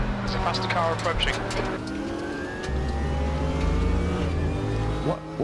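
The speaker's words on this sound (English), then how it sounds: "There's a faster car approaching." Engine of a faster race car in the Raceroom racing sim at Imola, rising in pitch as it closes in and passes over the steady drone of the player's own car, with talk over it.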